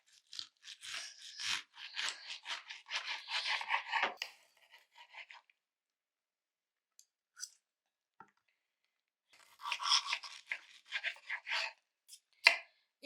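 A knife cuts vegetables in quick, crisp bursts of slicing and crunching, then a long quiet pause before another run of cuts.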